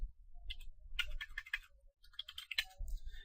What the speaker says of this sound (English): So I'll just type ifconfig.